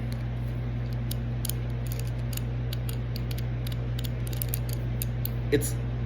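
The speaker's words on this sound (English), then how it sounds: "Here's one with the 8-sided star." A steel bit with an eight-sided star tip rolls and catches on a surface, giving sparse, irregular light metallic clicks over a steady low hum.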